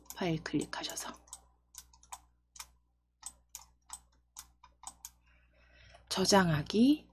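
Computer mouse clicks in a coding lesson while saving a file, a string of sharp, isolated ticks spaced out over several seconds, with speech at the start and a voice returning at the end.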